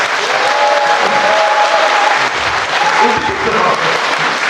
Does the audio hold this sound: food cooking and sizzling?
no